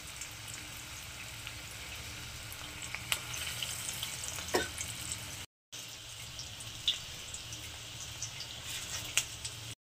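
Pea fritters (motorshutir bora) crackle and sizzle steadily in hot oil over a medium flame, with a dense hiss broken by sharper pops and scrapes, close up and without voices.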